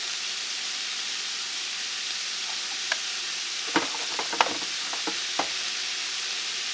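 Collard greens seasoned with thyme, garlic powder, salt and pepper sizzle softly in a pan while a spoon scrapes and taps through them in a few brief, distinct clicks over a steady hiss.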